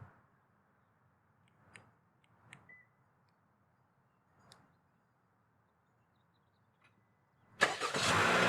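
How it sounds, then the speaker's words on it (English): A car engine turning over via remote start and catching, bursting in loud near the end after several faint clicks and beeps, with no talking. "So we're going to utilize the remote start feature."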